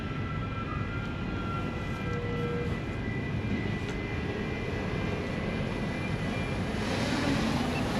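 A DJI Mini 3 drone descends to land overhead near a port, giving off a steady, even propeller whine over continuous outdoor rumble with no pauses.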